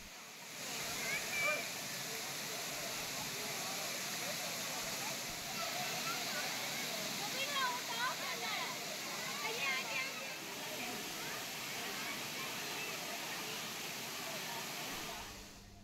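Thirparappu waterfall pours with a steady, broad rush while tourists bathe beneath it, and a voice speaks over the continuous roar of the water.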